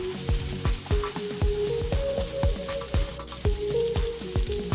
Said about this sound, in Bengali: এবার দিয়ে দেব হাফ সিদ্ধ আলু পটল। এটাকে নেড়েচেড়ে একটু ফ্রাই করে নেব।